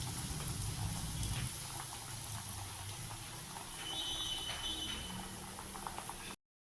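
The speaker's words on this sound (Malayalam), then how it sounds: "നമുക്ക് ചൂടായ എണ്ണയിലേക്ക് ഒരു കയ്യിൽ മാവ് ഒഴിച്ചു കൊടുക്കാം" Masala neyyappam batter bubbles and crackles softly in hot coconut oil, a faint, steady sizzle heard up close and alone before it stops abruptly.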